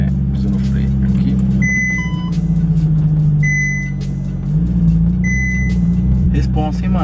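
A Ferrari 458 Italia backs up with a low, steady engine idle underneath, while electronic beeps chime in short repeated bursts; voices can be heard faintly.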